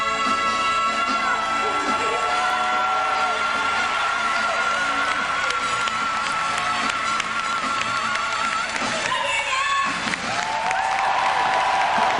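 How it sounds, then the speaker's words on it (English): A theatre audience claps in a played recording as a song ends, with a dense ripple of applause and a few cheers under lingering sung and musical tones, all fairly steady throughout. "Before the song even ends, you hear the audience start clapping."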